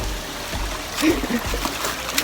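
Water flowing at Mae Klang waterfall in Chiang Mai, a steady rushing wash with small splashes and trickles, close and continuous.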